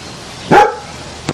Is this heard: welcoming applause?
no